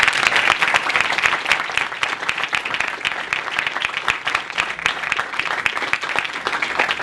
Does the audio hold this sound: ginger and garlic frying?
no